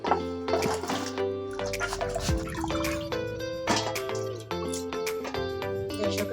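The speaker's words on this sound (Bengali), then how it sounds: "প্রথমে আমি ঢেঁড়সগুলো ধুয়ে নিব" Okra being washed in water makes close splashing and dripping sounds, with water sloshing and trickling and a few bright clinks throughout.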